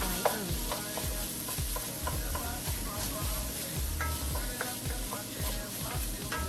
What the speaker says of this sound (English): stir that in and get that mixing real good